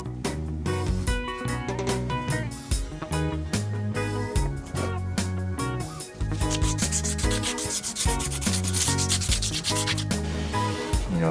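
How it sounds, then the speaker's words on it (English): Sanding rasps continuously as the Yawfin slot is worked to fit a paddle blade, loud and close with a steady rubbing rhythm that barely pauses. "Methodically mark and sand the Yawfin slot to adjust to the paddle blade."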